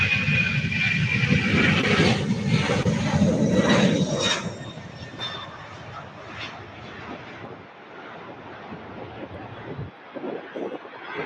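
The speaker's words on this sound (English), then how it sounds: "we have a whole lineup of aircraft taxiing out 35 left for takeoff here at Louisville Muhammad Ali International Airport" Aircraft taxi for takeoff toward runway 35 left at Louisville Muhammad Ali International Airport, their jet engines a loud, broad roar with a thin whine that gradually fades into distant rumble amid wind buffeting.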